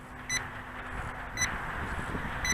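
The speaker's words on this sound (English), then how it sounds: "It's beeping." An LSRC S7S quadcopter gives a low-voltage warning outdoors: faint, short electronic beeps repeat about once a second over a soft background hiss, with no voices.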